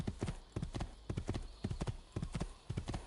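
A horse in Assassin's Creed II gallops at full speed, its hooves pounding in fast, steady clusters of heavy thuds close by, running without a break the whole time.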